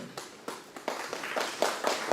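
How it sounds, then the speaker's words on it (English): Scattered applause from an audience at a literature festival hall welcoming a delegate on stage, a thin, uneven patter of individual claps rather than a full roar, fairly faint. "with a big round of applause, we welcome on stage another esteemed delegate present amongst us"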